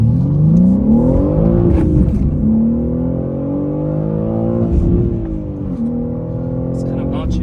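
A 2023 BMW M3 with a six-speed manual revs up and settles again, its engine droning and rising in pitch, loud and close from inside the car, with a person talking over it.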